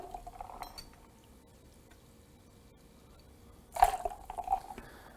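Three ounces of sparkling water are poured into a cocktail mixing vessel holding clear ice, giving a brief splashing fizz with a glassy clink near the end. Quiet and close, after a faint earlier tap over low room noise.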